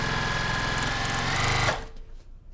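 A sewing machine stitches quilt blocks in a fast, steady mechanical whir, loud and close, running for under two seconds before stopping abruptly into quiet handling noise.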